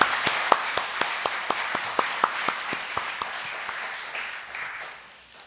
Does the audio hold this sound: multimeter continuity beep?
no